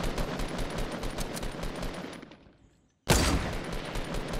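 Rapid gunfire from a video game crackles in a dense, continuous stream, fades to silence, then bursts back loudly.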